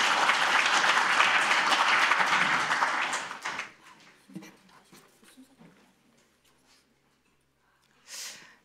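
Applause from the audience at a Korean social welfare policy forum, thanking a professor after his presentation: dense clapping for about three seconds, then fading to scattered claps and room noise, with a brief burst near the end.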